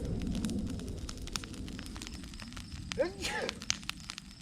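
An outdoor fire burns through dry ragweed with a low, continuous roar and crackle, broken by a few sharp pops. A person speaks briefly over it.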